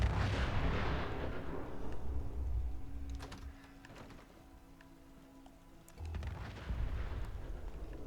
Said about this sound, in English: Somebody's popping the missiles hardcore.